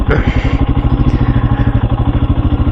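A Royal Enfield Himalayan motorcycle engine idles loudly and close on a green lane, with a steady rapid chugging pulse throughout.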